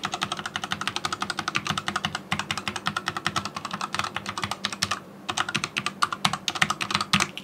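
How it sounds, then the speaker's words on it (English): Keys tapped on a Royal Kludge RK89 mechanical keyboard, rapid close clacking keystrokes in fast irregular runs with two short pauses, no talking. "I'm going to tap some of the main keys first so you get a rough idea what it sounds like"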